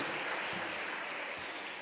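A church congregation claps continuously, a dense steady patter of many hands at moderate volume throughout.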